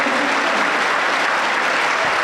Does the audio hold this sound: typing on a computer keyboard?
no